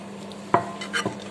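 Ragi flour batter for paniyaram being stirred with salt in a bowl, producing a couple of short clinking scrapes against a steady low kitchen hum, close and fairly quiet.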